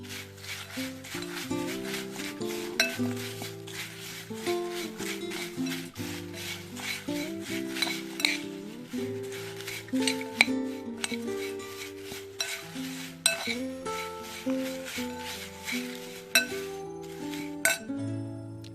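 A spoon stirs spicy beaten rice (avalakki) in a metal pot as the tempering is mixed in, giving steady rhythmic scraping and clinking against the pot, with music playing underneath throughout.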